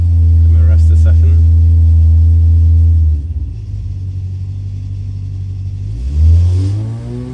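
An 875 car engine fitted with a mild sport cam, revving on a dyno: a loud, steady high-rpm drone that drops abruptly to a rough idle rumble, then swells briefly again.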